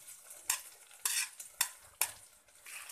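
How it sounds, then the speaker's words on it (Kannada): Smashed boiled potatoes and peanuts being stirred into a tempering in a pan for Bombay potato sagu, a spoon scraping in four or five distinct strokes over a light sizzle. "ಈಗ ಅದನ್ನ ಈ ಒಗ್ಗರಣೆ ಒಳಗೆ ಹಾಕೋಣ."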